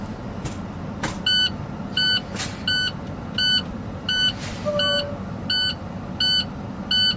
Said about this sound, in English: that beeping right now is our air brake indicating that the air pressure is low